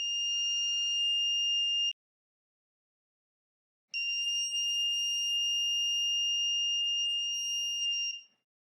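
A piercing electronic buzzer on a switch-operated circuit activity board sounds a steady tone for two seconds, goes silent, then buzzes again continuously for about four seconds.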